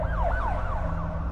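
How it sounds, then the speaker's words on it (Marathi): An ambulance siren wails in repeated rising-and-falling sweeps as it passes close by at night outside a hospital entrance, loud and continuous over a low rumble of road noise. "एक रुग्णवाहिका आम्हाला घासूनच भोंगा वाजवत कुठेतरी निघून गेली"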